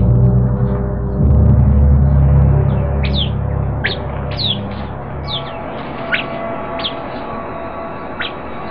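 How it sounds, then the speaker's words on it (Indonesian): Sentinel birds give sharp alarm calls at a venomous snake, a series of brief high chirps repeating roughly every second over a low, noisy background with a narrator's voice. "Burung penjaga segera membunyikan tanda bahaya."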